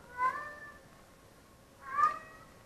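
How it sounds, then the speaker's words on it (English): A cat meows twice, with a pause between the two calls, fairly faint against a quiet background. "I'm sure y'all can hear the cat. You hear it? Listen."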